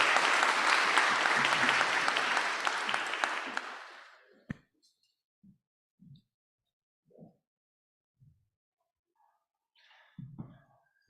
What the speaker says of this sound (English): Another round of applause for Antigone as the next speakers come up.